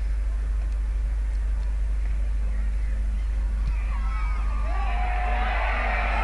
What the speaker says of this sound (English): you can hear the crowd erupting behind the goalpost for the Thomian goalpost